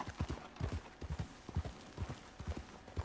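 A horse's hooves clip-clop in a quick, steady trot in Red Dead Redemption 2, with soft, close footfalls repeating evenly over a faint background.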